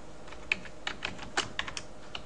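Short burst of typing on a computer keyboard while editing entries in a GIS attribute table, with a handful of distinct, fairly quiet keystrokes spaced irregularly over about two seconds, close to the microphone.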